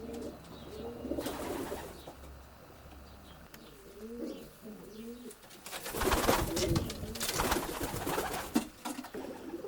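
Racing pigeons coo softly in open-front nest boxes inside an old bird section of a loft, repeated rolling coos at close range, followed by louder rustling and flapping bursts.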